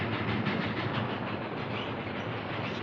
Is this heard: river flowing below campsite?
no